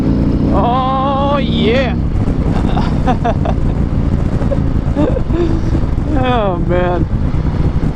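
A 2019 Harley-Davidson Street Glide Special motorcycle rumbles loudly on the road as the engine pitch sweeps up and drops through downshifts, with wind buffeting and a rider exclaiming over it.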